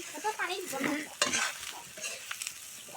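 Fried potato and young jackfruit stirred in a sizzling pan, with close, uneven scraping strokes and bursts of crackle over a low frying hiss.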